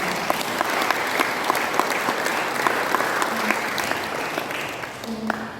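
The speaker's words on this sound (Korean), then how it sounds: "큰 박수 한번 보내주시기 바랍니다" Sustained applause from an audience at a Korean independence movement memorial ceremony, steady dense clapping that stays loud for several seconds with a few brief voices poking through.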